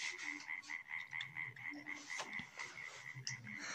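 A frog croaks in a steady rhythmic pulse, used as a sound effect in a children's read-aloud story, with continuous chirring calls and a faint ambient bed and no voice over it.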